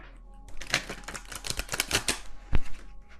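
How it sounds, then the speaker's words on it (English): Tarot cards slapped down one after another onto a table in a quick, uneven run of crisp taps, closing with one louder, sharper card hitting the surface. "I'm just going to set down, to save time, one more card for each of these"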